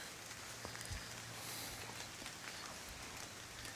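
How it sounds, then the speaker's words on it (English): Soft, steady rain falls on a wet, sloppy Vermont trail, a faint continuous hiss with scattered light patters and a few low knocks, no voices. "it is a wet, soppy, rainy day"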